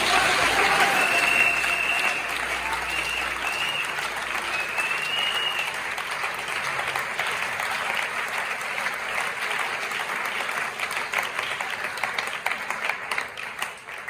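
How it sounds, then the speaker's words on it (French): A church congregation at a Sunday service applauds loudly, with dense sustained clapping and crowd noise filling the whole stretch, steady and close, tapering slightly toward the end. "On acclame très très fort."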